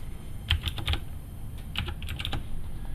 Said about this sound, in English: We could type in any notes